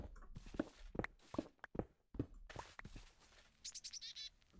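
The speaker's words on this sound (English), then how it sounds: "little squeaky bird. That was a cute sound." A small squeaky bird chirps in Minecraft, giving high, bright, quick tweets near the end. Faint footstep-like taps come before them.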